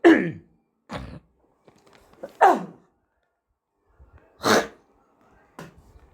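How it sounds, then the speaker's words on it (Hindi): A few sharp, separate coughs burst out one after another in an otherwise quiet room, each short and forceful. "खांसी आ रही थी"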